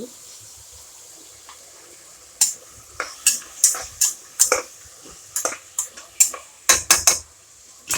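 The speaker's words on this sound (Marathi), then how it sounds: "सगळे तांदूळ टाकून घ्या आपण तांदूळ टाकले ते तांदूळ हलवून घ्या" A spoon stirs rice into a sprouted-bean curry in a pot for green-chilli masale bhat, giving a quick series of sharp clinks and scrapes against the metal over a faint background hiss.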